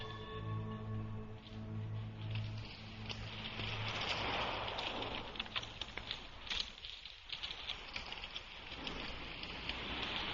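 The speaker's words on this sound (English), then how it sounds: "It's starting to rain." Rain starts falling as a soft, steady patter on surfaces, with scattered drops tapping over a low hum that fades out partway through.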